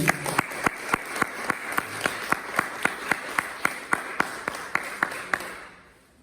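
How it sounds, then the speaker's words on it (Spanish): A church congregation claps in a steady, even rhythm, with regular synchronized claps over a soft bed of scattered applause, moderately loud, then quickly trailing off at the end. "¿Cuánto le dan un aplauso a esa gente que es fiel?"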